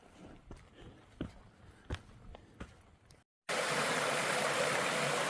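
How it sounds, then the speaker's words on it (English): A small waterfall and stream along the Appalachian Trail in North Carolina, heard first as faint crunching footsteps on the trail, then after a brief gap as a loud, steady, close rushing of water that continues to the end. "if you like little waterfalls, today was kind of your day"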